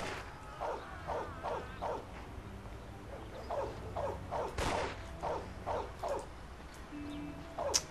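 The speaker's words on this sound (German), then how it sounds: "So, jetzt holen wir uns doch die Hunde." Dogs bark in the video game Mafia, a string of about a dozen short, sharp barks and yips in quick irregular bursts, moderately near over a low ambient background.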